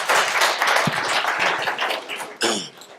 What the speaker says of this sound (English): So give Wilson a round of applause.